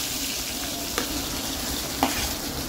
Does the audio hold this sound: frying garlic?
yes